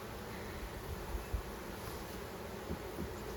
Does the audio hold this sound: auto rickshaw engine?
no